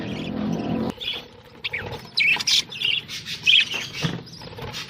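Pied budgerigars in a breeding cage chirp and squawk in quick, bright bursts, close and fairly loud, with a rustling, scratchy patch at the start and no talking.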